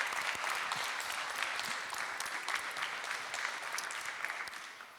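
Applause fills a meeting room as attendees clap together at the close of a session, with sustained dense clapping that fades slightly toward the end.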